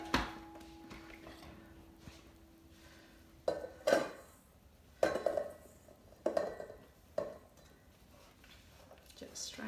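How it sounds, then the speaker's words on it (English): Macaron batter being scraped and tipped into a big mixing bowl, with scattered spoon-on-bowl knocks and clinks in short bursts around quiet speech, close and fairly faint. "So now you transfer this to the big bowl."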